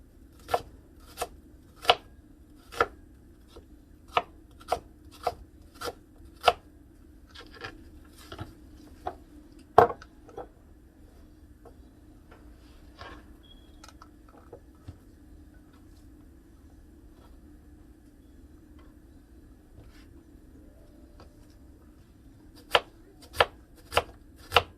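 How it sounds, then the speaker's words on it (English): A knife slices a whole onion on a cutting board, giving crisp, evenly spaced cuts close by in quick runs, with a quieter stretch of softer cuts in the middle before the steady chopping resumes. "Just slice the onions up."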